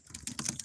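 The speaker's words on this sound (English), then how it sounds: "So I'm typing it in now." Quick, close clatter of keys on a computer keyboard, a few rapid strokes tapped out alone without speech.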